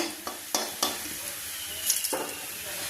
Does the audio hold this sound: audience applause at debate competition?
no